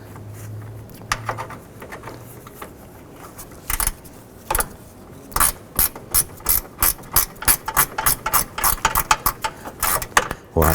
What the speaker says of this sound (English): wrench, and we're going to go ahead and snug that down